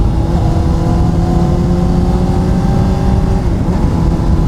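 A Honda CBR600RR sport motorcycle engine braking after a two-gear downshift gives a steady, close, loud engine drone with a sustained tone, heard alone.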